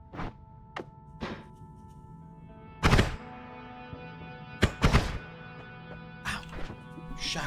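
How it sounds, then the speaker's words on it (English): Shotgun blasts in a video game: a few sharp, loud, booming shots spread over several seconds, with two fired close together near the end, over a steady bed of game music and tones. "Shotgun effect, huh?"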